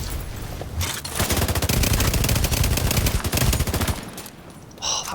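A sustained burst of rapid automatic gunfire in The Division 2 PvP combat, loud and close, each shot a sharp crack in a fast even rhythm for about three seconds before dropping to quieter game ambience.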